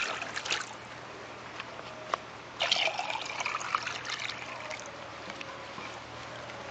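Water trickling and splashing as it fills a reservoir in a hydraulic conductivity lab setup, a steady faint flow with a few louder gurgling bursts.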